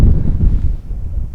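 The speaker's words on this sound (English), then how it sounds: "It's so windy today" Wind buffeting a microphone outdoors, a loud low rumble of gusts that rises and falls over a brief stretch with no talking.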